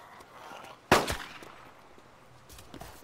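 A single sharp gunshot cracks out in a zombie shooting video game and is followed by a brief rattling tail. A fainter shot comes near the end, with quiet background in between.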